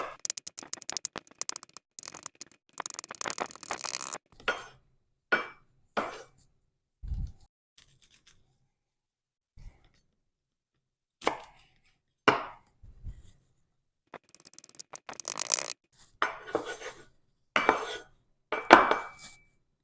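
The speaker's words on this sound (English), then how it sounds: "chop up some cilantro and some onion so that we can garnish our tacos with this and put some into the consomme" A knife chops cilantro and onion on a board in quick, close bursts of rapid strikes, separated by short silences and a few clinks of kitchenware.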